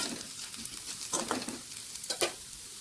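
Potatoes and onion are tempered in hot oil in a pan for a dahi pakhala side dish, crackling and sizzling close up as they are stirred, with soft scraping bursts.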